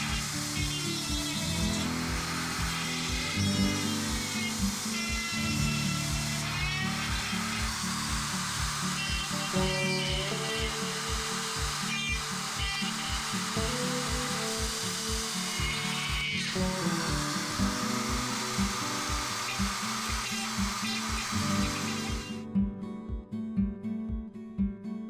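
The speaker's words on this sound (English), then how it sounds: "I'll start by marring it up with a Dremel and stone grinder." A Dremel with a stone grinder bit roughs up the surface of a model panel to build a rusty weathering effect for an RC model. The high whine holds steady throughout, close and continuous, over background music, and it cuts off just before the end.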